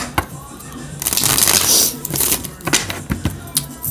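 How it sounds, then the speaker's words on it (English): Tarot cards being shuffled, a loud close riffle burst in the middle with shorter flicks and taps before and after, and no voice over it. "I'm going to shuffle two more times."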